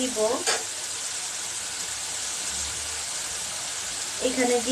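Spice masala sizzling in a pan as yardlong beans and potatoes go in for a rohu fish curry, a bright steady hiss throughout, with a voice speaking briefly at the start and end.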